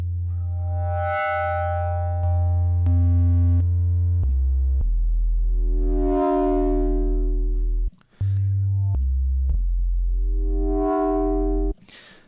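A loud, sustained Serum or Massive synthesizer tone with a gritty, distorted edge, stepping through a few held pitches with swelling brightness, one brief cut near the end.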